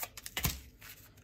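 Quick crinkly rustling and a few sharp crackles from a small paper packet of radish seeds being torn open close by, with no talk.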